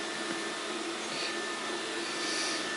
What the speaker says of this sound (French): l'aspirateur en lui-même est plutôt silencieux. Là j'ai forcé la puissance d'aspiration.